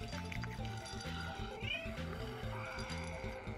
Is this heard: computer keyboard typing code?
no